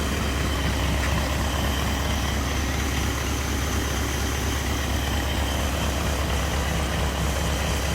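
A 1945 M24 Chaffee tank's Cadillac flathead V8 engine idles around 500 RPM in neutral with a steady, low, rough rumble, continuous and close, with no voices.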